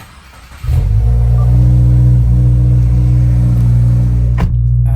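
A Subaru car engine turns over and settles into a loud, steady, close idle with a deep rumble. It keeps running evenly for several seconds after starting.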